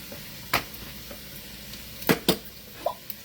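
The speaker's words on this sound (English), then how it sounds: "I'm just going to take my eggs and I'm going to crack it right into the pan" Eggs cracked into a hot pan, a few sharp taps and crackling bursts of sizzle spaced apart over a low quiet kitchen background, close by.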